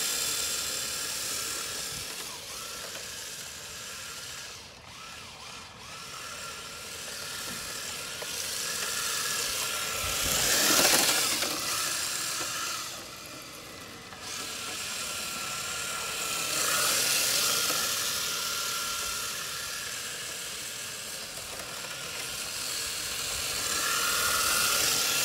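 A Traxxas 4Tec 2.0 RC car drifts with a high, whiny motor buzz that swells and fades as it slides, fairly faint and continuous with no talking.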